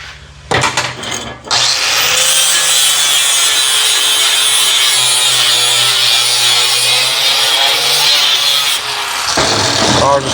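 A flap disc on an angle grinder grinds rusty metal under a battery box for rust repair, a loud continuous abrasive whine lasting about eight seconds, with short start-up and wind-down bursts at either end.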